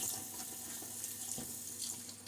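Tap water runs steadily into a shaving lather bowl as it is rinsed out, a close, continuous splashing hiss with small irregular surges and no speech.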